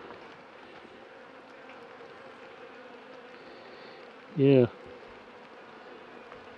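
Steady buzzing of many honeybees flying close by, with a brief spoken word cutting in near the end.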